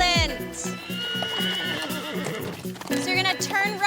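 A horse in a riding arena whinnies loudly with a rising, shaky neigh while hooves clip-clop in a rhythmic beat underneath, close by, with a person talking over it.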